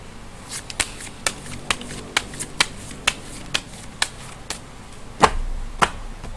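Tarot cards are handled and shuffled in a quiet room, giving a series of sharp, separate snaps and flicks at an irregular pace about every half second, fairly close, with no voices.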